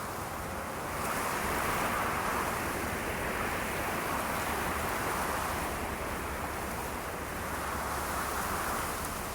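Strong wind blows hard at a carp fishing lake, a loud steady roar of broadband rushing noise that swells slightly and never lets up, with no voices.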